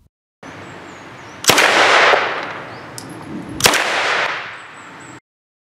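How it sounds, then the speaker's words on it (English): A Sterling L2A3 submachine gun fires two single semi-automatic shots a couple of seconds apart, each a sharp loud crack followed by a long rolling echo that fades out, with no voices. "These rounds were fired with the Sterling set in semi-automatic"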